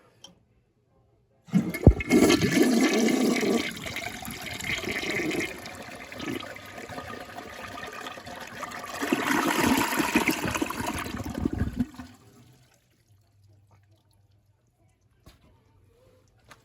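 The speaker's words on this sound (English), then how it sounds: "let's give this thing a flush." A 1983 American Standard Solarware toilet is flushed: a sudden loud rush of water swirling and draining for about ten seconds, surging again near the end, then a quiet refill trickle.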